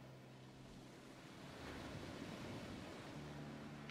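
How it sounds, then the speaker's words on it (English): Steady ambient ocean waves play as a looping sound effect during a Dungeons & Dragons tabletop session, a constant, soft wash of surf and wind that swells slightly midway, with no voices over it. "I'm probably even trying to walk with the rhythm of the waves"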